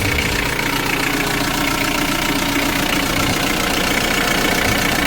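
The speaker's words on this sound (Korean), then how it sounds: "엔진 사운드도 좋고요" A 2004 Hyundai Porter short-cab TCI diesel truck with manual transmission idles with its engine bay open, giving a steady, loud, close diesel clatter and rumble that runs unbroken with no voices.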